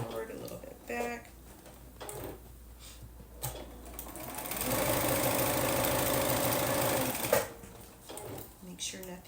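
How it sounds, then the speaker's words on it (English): A sewing machine stitching forward and back-tacking on a fat quarter tote bag gives a few seconds of rapid mechanical stitching, framed by clicks and handling, with a voice talking before and after. "Using my hand wheel, press your foot down, stitch a little bit forward, a little bit back"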